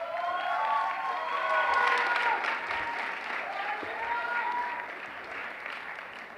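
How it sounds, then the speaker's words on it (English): An audience at a startup pitch competition gives a presenter a warm round of applause, dense steady clapping with a few cheers at moderate distance, while a voice carries on over it. "Let's give him a huge round of applause."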